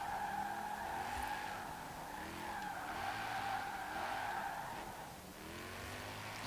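Tires of a 1953 Jaguar C-Type squeal steadily in Forza Horizon 4 as the car slides, a continuous wavering screech over a droning engine, fairly loud with no talk.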